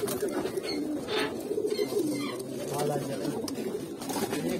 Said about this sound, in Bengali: এখানে দেখেন এই জায়গায় অসংখ্য কবুতর আছে